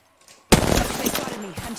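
Sudden burst of gunfire in Apex Legends, starting abruptly after a quiet half second and continuing as rattling shots with a voice mixed in.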